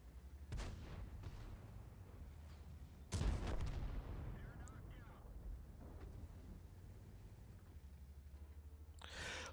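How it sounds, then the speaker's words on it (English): Tank gunfire in the World of Tanks video game on the Karelia map, a few booming cannon shots, one especially loud near the middle, over a low rumbling engine drone while someone talks. "I shot at that tank's lower plate without using the sniper mode"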